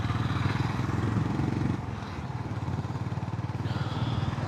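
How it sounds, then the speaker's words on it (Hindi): A Honda CB350RS motorcycle engine pulls hard on an evening ride, with a close, throbbing thrum that dips briefly as the revs shift and then climbs again. "what a sound and what a pickup, man. Never disappoints this motorcycle"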